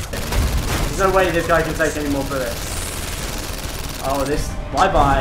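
Rapid bursts of gunfire from a PlayStation VR Worlds heist game clatter under an excited player's voice, with shots and speech overlapping through the short stretch.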